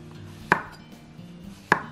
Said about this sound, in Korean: 양송이도 슬라이스 해주고